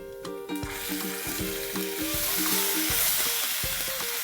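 Ginger garlic paste sizzling and spattering in hot oil with browned onions, a continuous frying hiss with clinks of a utensil stirring against the pan, no speech.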